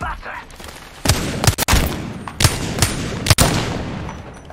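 Gunfire in the Apex Legends battle royale game: several loud, sharp bursts of shots in quick succession, with short volleys spaced across the clip over a steady background of in-game ambience.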